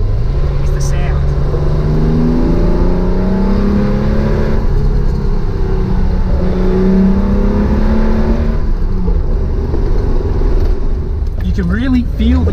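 A home-built Datsun 240z with a lumpy cam revs and pulls on its first drive, a loud throaty engine rising and falling through several gear changes heard from inside the car, with a brief voice near the end.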